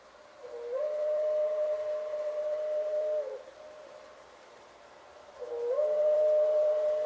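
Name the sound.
Hancock air whistle horn on a model train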